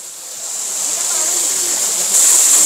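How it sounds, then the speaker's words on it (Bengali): Rushing water from an artificial waterfall at a hillside tourist spot, a steady broadband hiss that swells slightly louder toward the end, continuous and close with no voices. "দেখুন ঝর্ণার ব্যাপক শনশন শব্দ।"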